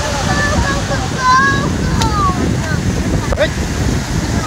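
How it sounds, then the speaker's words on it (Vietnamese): Big, dangerous ocean waves at Cam Binh beach in Vietnam make a constant loud roar of surf mixed with wind buffeting the microphone, while people talk over it. "Hiện tại sóng ở bãi biển Cam Bình rất là lớn, rất là nguy hiểm."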